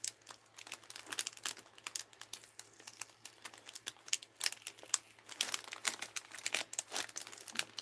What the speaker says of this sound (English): This is how we unwrap Christmas presents, very carefully.